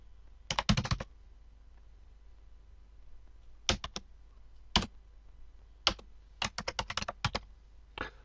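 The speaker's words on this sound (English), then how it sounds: "Let's type an email." Bursts of typing on a computer keyboard while writing an email, with quick clusters of key clicks separated by pauses, close and fairly quiet, with no voices.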